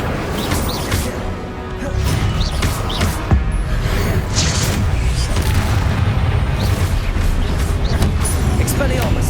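Confringo blasting-spell explosions in the Hogwarts Legacy video game, repeated booming blasts and crashes in a dense, loud stream of combat noise, with a voice speaking intermittently through it.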